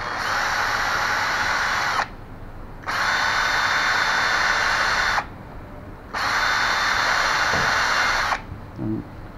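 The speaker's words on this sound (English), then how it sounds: "I'm going to drill it, starting with a 5mm drill bit." A power drill with a 5mm bit bores into a hammer handle in a small shop, running in three long steady whining bursts separated by brief pauses, with a faint thump near the end.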